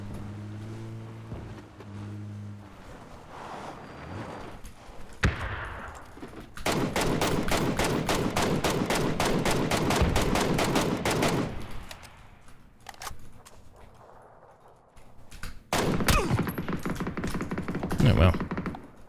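Gunfire in the video game PUBG: bursts of rapid automatic shots and separate single cracks over vehicle and ambient game noise, with a player's voice talking at the start.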